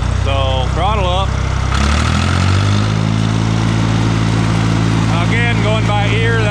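International 484 tractor engine with a fuel system problem, idling then throttled up to a steady higher-pitched running drone, loud and close, with someone talking over it.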